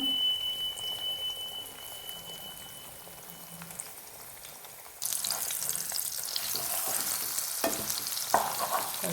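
Eggs frying in a pan with salt sprinkled on them, first a quiet low sizzle with faint clinks, then a sudden louder, brighter crackling sizzle from about five seconds onward as they are stirred.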